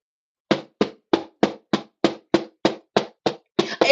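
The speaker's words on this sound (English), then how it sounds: "It's a knock at the door, but nobody is answering." Knocking at a door: eleven evenly spaced sharp raps, steady and fairly loud, close by, with no voices.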